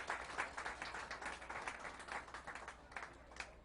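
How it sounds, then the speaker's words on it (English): Applause from a Buffalo Day of Hope and Healing audience honoring local clergy, a steady patter of many hands clapping at moderate distance, fairly faint, with no talk over it. "So let's give our clergy a great big round of applause."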